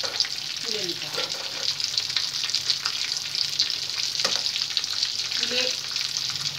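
Bhetki fish cutlets deep-fry in hot oil, giving a loud, steady crackling sizzle with a few soft utensil scrapes as pieces are lifted out.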